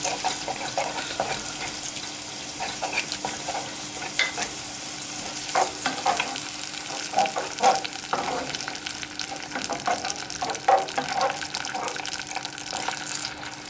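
A spoon stirs lentils and beans in a pot, giving a continuous wet, clattering churn close by with faint sizzling beneath and no talking.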